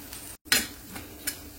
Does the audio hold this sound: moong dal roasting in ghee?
yes